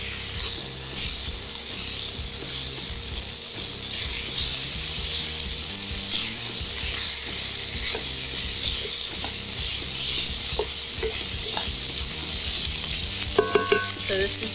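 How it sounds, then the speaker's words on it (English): Steady, loud sizzling of bacon frying in a pan, a constant crackling hiss with occasional utensil clinks near the end. "Ooh, a nice sizzle of sound of bacon."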